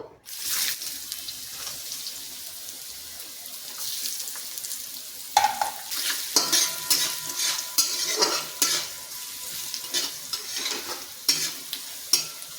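Chopped carrots stir-fried in a pan for masala fry idli, with soft sizzling under repeated scraping and clattering strokes of a spoon against the pan, close and uneven in rhythm, with no talking.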